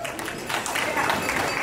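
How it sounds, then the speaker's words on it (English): Wedding reception guests give a round of applause, a steady wash of clapping from a crowd that lasts the whole moment, with voices murmuring underneath. "Let's give Dominic a big round of applause."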